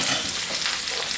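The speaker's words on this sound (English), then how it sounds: "Hear that sizzle?" Steady, crackling sizzle of tomatoes frying in a hot pan, close and continuous with no voices.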